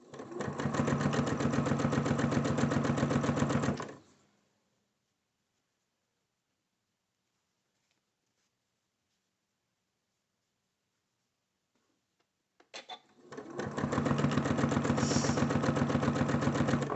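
A Janome sewing machine with a 1/4-inch even feed foot stitching scrappy nine-patch quilt pieces, running in a steady, close whirring burst of about four seconds, then silence, then another long run starting up.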